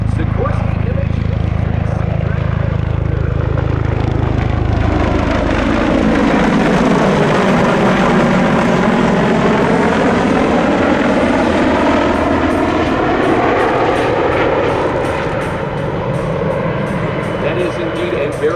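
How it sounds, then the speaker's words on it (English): A Sikorsky MH-53E Sea Dragon helicopter approaches with a heavy rotor thump and roaring turbine whine, growing loud as it passes close, then slowly receding. "here comes that massive Sikorsky MH-53e"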